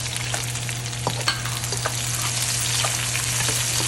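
Ginger, garlic and onion sauté in a pan for fish in black bean sauce, with a steady close sizzle broken by a few scraping stirs and small pops, and no talk over it.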